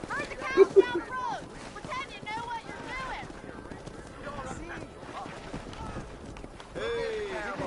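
Horse hooves clip-clop across the ground in the Western video game Red Dead Redemption during a cattle drive, with a few sharp louder steps early on and a steady background of in-game ambience and voices.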